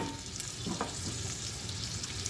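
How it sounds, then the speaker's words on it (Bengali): Potatoes frying in a pan for a mixed vegetable dish give a steady, close sizzle and crackle throughout, with faint stirring sounds and no talking. "দেখুন আলুটা অনেকটাই ভাজা হয়ে গেছে"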